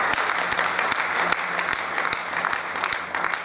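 A hall audience claps loudly and steadily in honour of a returning legislator at a Teli community gathering, with a dense continuous wash of applause and a few sharp, distinct claps standing out near the front.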